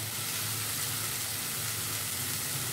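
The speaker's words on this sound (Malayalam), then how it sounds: "ഇനി ടൊമാറ്റോയും കൂടെ നന്നായിട്ട് വഴന്ന് അതിൻ്റെ വെള്ളമൊക്കെ വറ്റി ഒന്ന് മാഷായി വരണം." Chopped tomato sautéing in a pan with ground paste for a chickpea curry, a steady, even sizzle holding at a constant level throughout with no talk.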